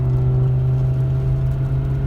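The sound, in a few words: Tuned BMW E60 M5 engine and exhaust while driving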